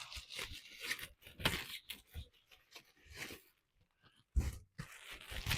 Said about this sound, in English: Need to get out another roll of paper towels.